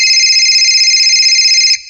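An electronic telephone ring in a Hindi horror story, a loud, steady two-tone trill that sounds alone and cuts off just before the end.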